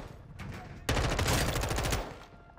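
A rapid burst of automatic fire, about a second long, from a gun meant to be silenced in Call of Duty: Modern Warfare II (2022). It sounds loud and crackling, not muffled, over quieter game ambience.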